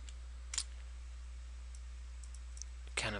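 Computer mouse clicks while painting a mask in Photoshop, two or three sharp, close clicks spread over a steady low hum, with faint softer ticks between them.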